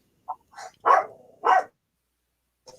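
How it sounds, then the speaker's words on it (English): Several short dog barks in a quiet room, small and fairly close, coming as a quick uneven cluster followed by a faint final yip. "Freaking dogs."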